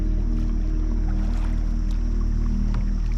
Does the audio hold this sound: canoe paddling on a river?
yes